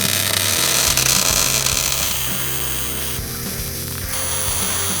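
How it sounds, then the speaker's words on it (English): Steady arc welding crackles and hisses as a steel bracket is welded onto a truck's frame tabs, a constant close buzz with no talk. "I'm going to weld this bracket into place"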